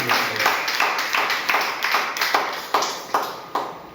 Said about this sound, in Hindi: क्यों ना आप और मैं अपने उत्तम ताली के द्वारा हमारा परमेश्वर का स्वागत करें